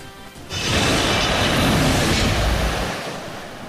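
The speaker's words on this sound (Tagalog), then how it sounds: "Humataw raw ang mga alon papasok sa dalampasigan ng Barangay Kasuguran, Giwan, Eastern Samar matapos ang lindol ng Biyernes" Small tsunami waves after an earthquake surge onto a beach in Eastern Samar, a sudden loud rushing roar of water that swells, holds for a few seconds, then recedes, with no voices.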